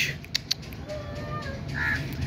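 A crow calling outdoors near a German shepherd, with a few harsh caws rising over low background noise and two short sharp clicks early on.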